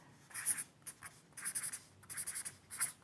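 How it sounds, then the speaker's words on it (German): A pen writes on a sheet of paper in short scratchy bursts separated by brief pauses, close and quiet, with no speech. "Ich schreibe mal hier unten noch drunter und nenne es"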